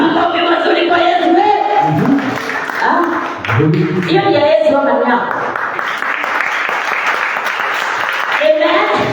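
A church congregation applauds and cheers for Jesus during a sermon, a broad wash of clapping and crowd noise that rises in the second half. A preacher speaks loudly over it at the start.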